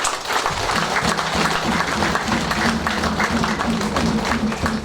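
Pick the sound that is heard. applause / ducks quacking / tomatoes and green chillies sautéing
applause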